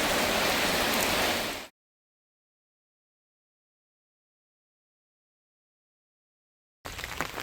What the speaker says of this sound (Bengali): বৃষ্টি তো পড়তেই আছে,